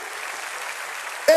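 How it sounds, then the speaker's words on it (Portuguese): A church congregation in Curitiba applauds with a soft, even wash of many hands clapping, held steadily, before a short tonal sound cuts in at the very end. "Uma salva de palmas para vocês que oraram muito."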